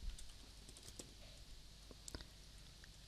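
Quiet clicking of keys on a computer keyboard as code is entered, short irregular taps with a couple of sharper strokes, close and soft over a low hum.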